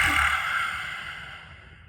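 A single long exhale during a pranayama breathing exercise. The breath is close and breathy, strongest at the start, then it slowly fades over about two seconds.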